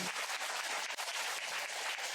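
An audience at a temple dharma talk claps in steady, dense applause that fills the whole short stretch with no speech.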